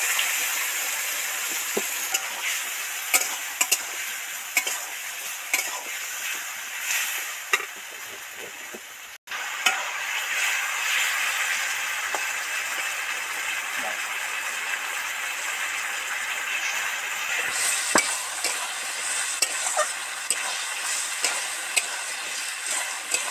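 Ridge gourd with liquid spice paste frying in oil in a pan, a continuous sizzle with scraping spatula strokes and clinks as it is stirred, close and steady throughout with a short break midway.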